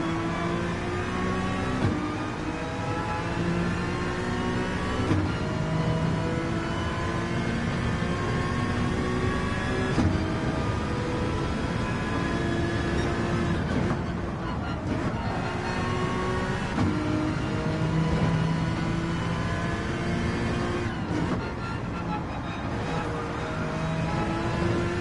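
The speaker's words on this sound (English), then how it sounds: "It's a satisfying clunk every time he upshifts" Inside-car view of a GTE race car in a racing video game, its engine roaring and revving continuously with pitch climbing and dropping through repeated upshifts, loud and unbroken for the whole stretch.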